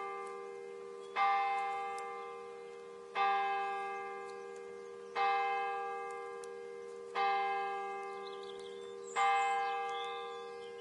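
A church bell tolls five slow, evenly spaced strikes about two seconds apart, each ringing out and decaying into a lingering hum before the next, clear and alone.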